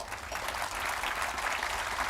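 A conference audience at an illegal wildlife trade event applauds a ranger's talk, a soft, continuous rustle of many hands clapping at a distance, steady throughout.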